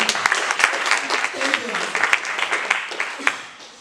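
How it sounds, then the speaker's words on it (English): An audience gives a round of applause at a talk on integration, with brisk, fairly loud clapping from many hands running several seconds before easing off toward the end, while voices murmur underneath. "This deserves a round of applause."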